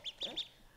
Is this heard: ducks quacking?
yes